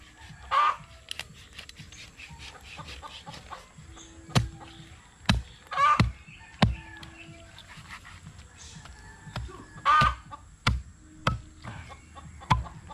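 Chickens cluck and call outdoors, with three short squawks spread across the scene amid sharp intermittent chopping knocks and soft background noise, no talking.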